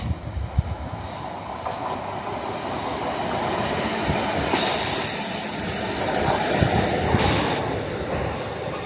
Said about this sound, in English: capture some Class 156 diesel multiple units, arriving empty stock and then departing empty stock back towards Prestwick Town